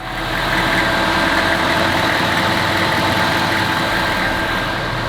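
A car engine, apparently a Lamborghini under rebuild, runs at a steady idle throughout, loud and close with constant low rumble and no voices.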